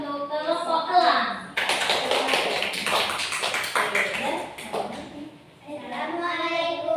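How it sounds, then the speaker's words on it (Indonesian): Applause from a primary school class for a student group, a broadband burst of many small hands clapping for several seconds, with children's voices before and after. "Oke, tepuk tangan yang meriah untuk kelompok elang."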